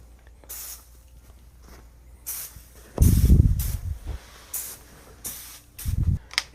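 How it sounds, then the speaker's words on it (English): Short hissing bursts of Bedlam insecticide spray hit a mattress, coming in an irregular series of bursts with gaps between, some louder and closer, and no talking. "you can literally spray this whole mattress area with this Bedlam also"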